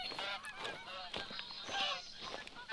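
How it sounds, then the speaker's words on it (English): A flock of geese honks repeatedly in an outdoor hunting setting in The Hunter: Call of the Wild, with overlapping calls that are fairly faint and distant and no talk over them. "Yeah, I'm hearing geese"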